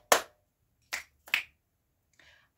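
Clap snaps made with the hands, three sharp, crisp snaps spaced unevenly in quick succession, then a fourth much softer one, each short and alone against silence.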